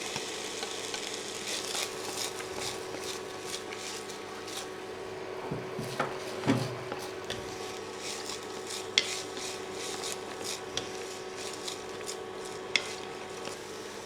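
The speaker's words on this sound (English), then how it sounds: "Stir to combine and cook for about 1 minute" Carrot and celery are stirred in a pot with a wooden spoon, producing soft, scattered scrapes and taps over a low, continuous sizzle, close by and with no one speaking.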